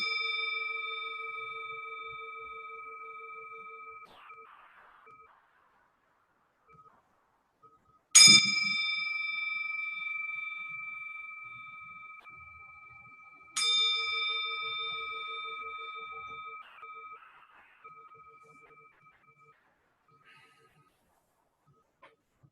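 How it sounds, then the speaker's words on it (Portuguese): A meditation bell is struck twice to open a practice session, each bright metallic ding ringing out clearly and fading slowly into near silence, the second strike slightly softer, with a faint steady tone between the strikes. "Eu vou tocar o sino para o início e para o final da nossa prática."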